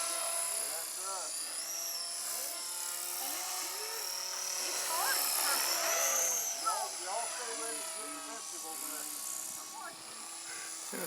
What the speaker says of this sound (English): it's hard to hold in a hover because it's not a very stable heli.